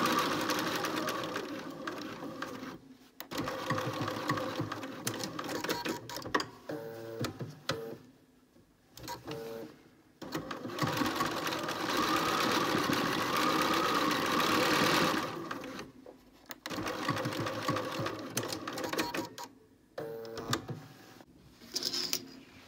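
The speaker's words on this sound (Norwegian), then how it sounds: "Da har vi sydd sømmen." A sewing machine stitches a trouser seam in several bursts of steady mechanical whirring, separated by short pauses, heard close and fairly loud with no talking.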